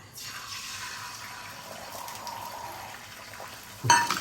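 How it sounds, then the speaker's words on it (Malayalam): An egg sizzles steadily in a hot pan up close, ending with a brief clatter of cookware. "മുട്ടയും ഒഴിക്കുന്നു"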